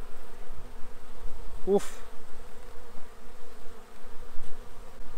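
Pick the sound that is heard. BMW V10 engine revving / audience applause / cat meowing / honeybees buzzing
honeybees buzzing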